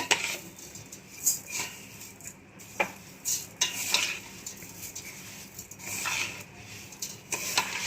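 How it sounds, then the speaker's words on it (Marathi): A spoon scrapes and clinks against a pot as pineapple murabba (sweet pineapple jam) is stirred over a low gas flame, giving scattered light taps and scrapes over a soft bubbling background, with no talking. "आता हे मंद गॅसवर डवळत राहायचं"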